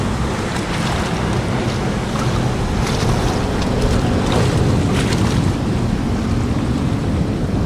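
A passing ferry throws a wake that sends waves and swells washing on open water off New York, heard under constant heavy wind buffeting the microphone with no break.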